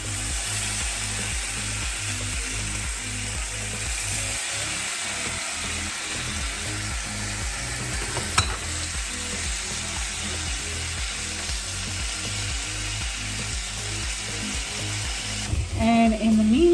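Bacon frying in a hot cast iron skillet gives a steady broadband sizzle throughout, with a rhythmic low pulsing beneath and a brief clatter near the end.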